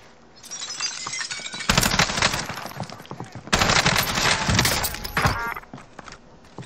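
Bursts of automatic gunfire in the Call of Duty Warzone video game, two loud sustained volleys of rapid shots with sharp cracks and some shattering, between quieter game ambience.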